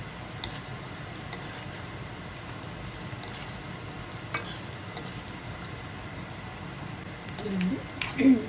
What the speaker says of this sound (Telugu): ఇలా కొంచెం ఆయిల్, ఒక 2 స్పూన్ల ఆయిల్ వేసి ఇలాగా బాగా ముక్కల్ని ఈ ఆయిల్లో ఇలా వేయించుకోవాలి